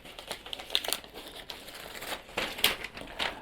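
Paper inserts and documents being pulled from a MacBook Neo box crinkle and rustle, with soft crumpling bursts and a few sharper paper snaps, close and fairly quiet.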